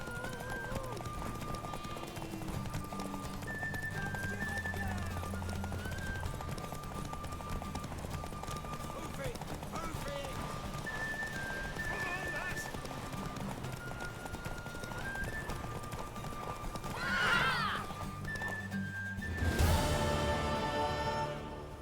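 Horse hooves clip-clop and a horse whinnies in The Witcher 3: Wild Hunt, amid game music and speech, with a louder burst of galloping and neighing near the end.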